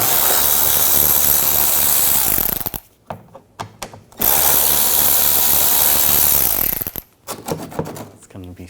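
Power tool with a 7mm socket backing out screws beneath a 2013-2019 Ford Escape while a windshield washer reservoir is removed; two loud whirring bursts of a few seconds each, separated by quieter clicking and handling.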